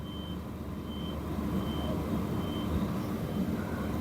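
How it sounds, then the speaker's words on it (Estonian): A truck's reversing alarm beeps steadily at an even pace, about five evenly spaced tones, faint and distant over loud low engine rumble and road noise. "Kas ta hakkab tagurdama või mis ta tegema hakkab?"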